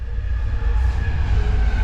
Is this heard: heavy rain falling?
no